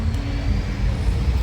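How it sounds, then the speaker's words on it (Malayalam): A bus at a stop in Georgia gives off a loud, continuous low engine rumble close by, with no voices over it. "ഞങ്ങളെ ബസ് വന്നിട്ടുണ്ട്"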